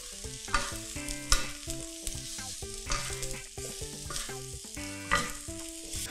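Fried rice being stir-fried in a hot wok, with a continuous sizzle under repeated clanking spatula strokes scraping and tossing the rice, close and fairly loud, no voices.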